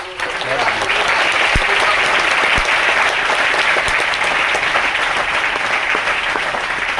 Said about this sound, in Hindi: एक बार जोरदार तालियां तो पहले इनके लिए बजा दो भाई